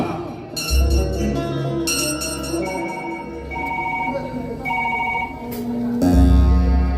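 A telephone rings during an outgoing call in a film scene. A steady, repeating ring sits over a bed of tonal background music, with a heavy low thump at the start and again near the end.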